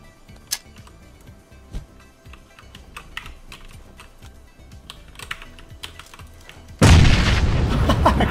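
A grenade blows up in PUBG (PlayerUnknown's Battlegrounds): several seconds of light keyboard clicking give way to one sudden, loud blast whose roar fills the last stretch.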